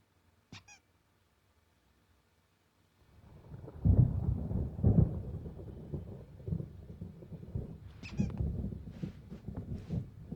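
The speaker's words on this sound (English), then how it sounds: "There's a storm coming. Oh, what a storm." Thunderstorm in Alan Wake: after a near-silent start with a brief squeak, deep rolling thunder swells up and rumbles on continuously, with a few high squeaks and cries over it.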